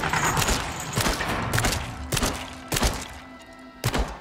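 Gunfire in The Dark Pictures Switchback VR, played on PSVR 2: several sharp, loud single shots at irregular intervals, each a hard thump with a short tail, over a steady background of game ambience.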